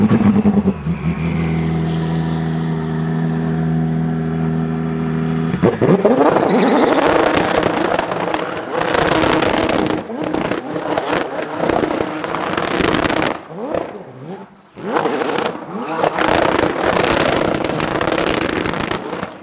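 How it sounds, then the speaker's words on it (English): A race car engine at the Velocity Invitational roars past close and loud, harsh crackling and popping exhaust with rising and falling revs, preceded by a brief steady tonal hum. "Car sounds so good."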